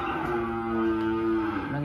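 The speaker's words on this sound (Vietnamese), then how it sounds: "Nó nghe mấy bò con cháu la nó bắt trước la." A calf of about seven months, among cattle on a farm, lets out one sustained, fairly close moo lasting nearly two seconds.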